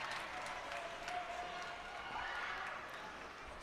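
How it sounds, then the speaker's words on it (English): Crowd at a St. Viator versus Stevenson high school hockey game in Allstate Arena roars in a sustained, fairly distant cheer with scattered clapping, a commentator's voice running underneath. "Huge cheer from the Viator side."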